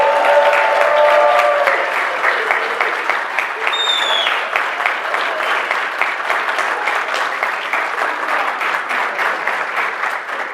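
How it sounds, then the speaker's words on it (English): A conference crowd at a WordCamp talk in Sydney breaks into loud standing applause and cheering, dense clapping with a few whoops near the start, sustained and close for about ten seconds. "I'm going to Snapchat him a standing applause, if you'll be so gracious"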